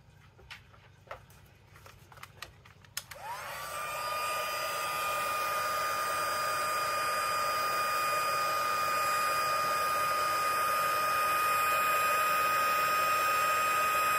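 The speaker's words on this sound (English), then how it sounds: "then we'll get our heat gun and just go over it slightly" A heat gun roars on after a few light clicks and handling sounds, then blows steadily and loudly over freshly poured, debubbled resin.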